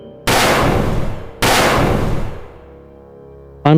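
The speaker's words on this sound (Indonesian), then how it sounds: "Panah energi raksasa meluncur" A giant energy arrow launches as a cinematic sound effect: two heavy booming blasts about a second apart, each fading slowly, followed by a short bright tonal burst at the end.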